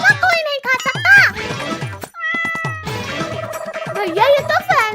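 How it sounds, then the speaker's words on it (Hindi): A cat meows repeatedly in a comedy sketch, its cries rising and falling amid a lively household with children talking and playing over and around it. "बिल्ली मौसी मैंने क्या किया जो मुझे पंजा मार रही हो?"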